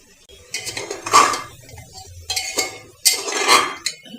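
Spices and potatoes tipped into a pot of frying chicken for a Bengali potato-chicken curry: a few separate bursts of metal clinking and scraping against the pot, fairly close, with quiet gaps between them.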